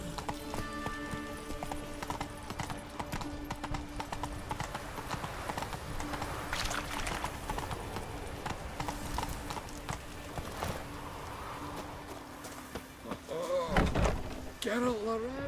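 Horse hooves clip-clop steadily at a gallop in The Witcher 3, with a brief whinny and some game sounds near the end.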